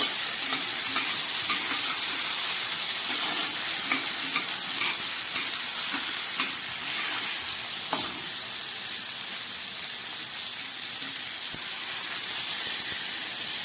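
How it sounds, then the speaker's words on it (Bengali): Prawns coated in salt and turmeric frying in hot oil, giving a dense continuous sizzle with occasional stirring scrapes, close and steady with no talk. "নুন হলুদ দিয়ে ভাজা বসিয়ে দিয়েছি চিংড়ি মাছগুলো ভাজা হচ্ছে"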